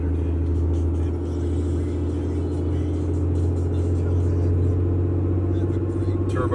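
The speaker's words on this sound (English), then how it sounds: "Turbo spooling up." A Cummins diesel truck drones with a steady low engine rumble as it accelerates, the turbo whirring beneath a loud, even cabin hum throughout.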